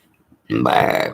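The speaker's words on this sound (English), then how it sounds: "Sorry about the burping." A loud, long burp from an adult woman, about half a second of throaty belching alone after near silence, heard up close.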